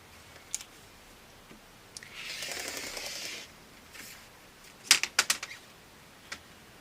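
Rotary cutter slicing fabric strips along a ruler on a cutting mat for a mini quilt: a soft rasping cut followed by a few sharp clicks, quiet and close.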